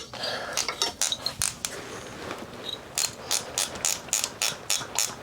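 Ratcheting clicks as bolts are loosened on a 1995 Harley-Davidson Evo Softail engine during intake gasket work; quick bursts of close mechanical clicking with brief pauses, over a faint background hiss.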